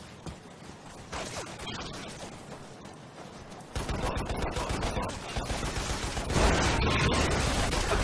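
Gunfire and launcher blasts from the sci-fi shooter Lost Planet: Colonies, a dense, continuous barrage that grows louder and heavier partway through, with booming bursts layered over rapid shots and no voices.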